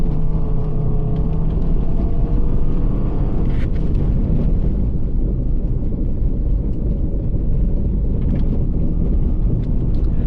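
A car pulls away on snowy, icy ground at full throttle, fitted with Bridgestone Blizzak winter tires. A loud, steady engine drone rises in pitch and holds for about ten seconds, with wind noise and faint tire rumble.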